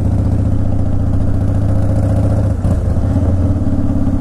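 A Harley Davidson Softail Standard motorcycle with 27,000 miles rides along the highway, its engine a loud, steady, close rumble with a brief dip before droning on.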